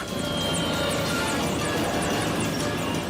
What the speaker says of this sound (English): one of the choppers blows a tail rotor.